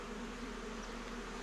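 Honey bees buzz steadily in an opened hive, a dense, continuous droning hum at close range with no voices over it.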